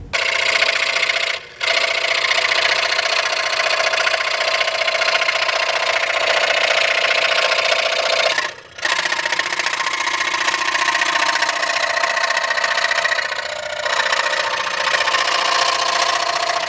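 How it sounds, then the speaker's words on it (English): A jigsaw cuts through a carbon fiber side panel with a steady, loud, high-pitched buzzing whine. It runs continuously and close, with two brief pauses, and no talk over it. "I want to just cut this out with the jigsaw."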